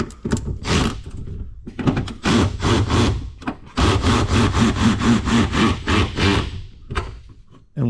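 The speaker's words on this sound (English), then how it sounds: "I am using my Milwaukee 3/8 high-speed ratchet" A Milwaukee 3/8 high-speed ratchet tightens a nut in a shop during interior wall framing, with loud, close bursts of rapid whirring, a short one, then a longer run with a pulsing rattle.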